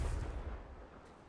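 A Confringo blast curse explodes in Hogwarts Legacy, a single heavy low boom at the start that rumbles and slowly fades over about a second, with no talk.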